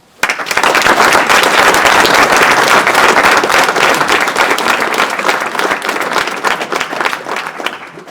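An audience at a New Year's wishes ceremony in Arpajon, France claps loudly and continuously for several seconds, a dense steady applause that fades slightly near the end.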